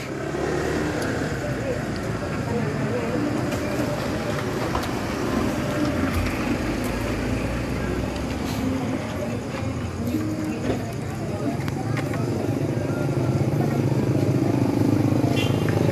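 A motorcycle engine runs steadily at close range, a broad continuous rumble that swells slightly louder toward the end, with people talking over it throughout.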